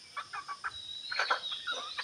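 Chickens cluck in a farmyard at dawn among ducks, a run of short, moderately loud calls in bursts, with a busier overlapping cluster in the middle and no talking.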